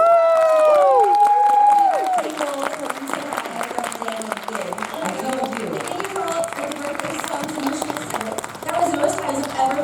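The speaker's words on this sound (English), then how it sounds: "Give them a massive round of applause." Convention audience at a panel for voice actresses applauding and cheering loudly, with a burst of whoops and screams at the start that settles into steady clapping and crowd noise, voices mixed in throughout.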